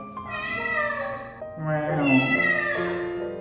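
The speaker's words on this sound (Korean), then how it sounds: "누가 야옹했어?" A baby kitten meows in two drawn-out, high, close calls, one after the other, with little else around it.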